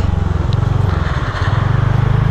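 A TVS Ntorq 125 scooter's exhaust idles and burbles up close, a steady low pulsing thrum that dips briefly and then resumes, loud with no talk.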